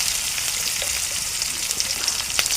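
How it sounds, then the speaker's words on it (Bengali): Chili paste frying in a pan, a steady close sizzle with faint crackles and small pops throughout, no talking. "আমি মরিচ পেস্টটা ভালো করে একটু ভেজে নেব।"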